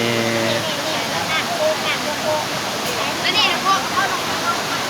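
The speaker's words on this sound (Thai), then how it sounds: "นี่เป็น บรรยากาศที่น้ำตกแล้วครับผม" Tad Hai waterfall in Khao Phra Wihan National Park gives a steady, close, full roar of falling water that runs without a break, with faint voices and brief chirps above it.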